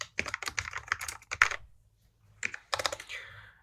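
Close, fast clicking of computer keys in two bursts separated by a short pause, with no voices.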